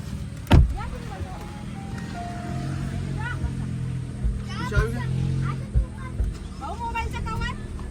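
A family car driven along a road near Kashid beach, a low steady engine and road hum running under frequent talk from adults and a child, with a few sharp knocks.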